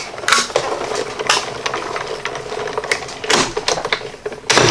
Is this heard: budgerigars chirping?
no